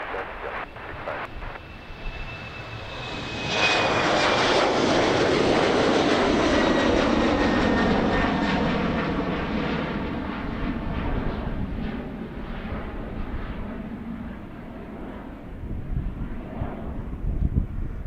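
A fixed-wing airliner on runway 26 left at Amsterdam Airport builds into a loud, close engine roar that holds for several seconds, then slowly fades, with wind buffeting the microphone.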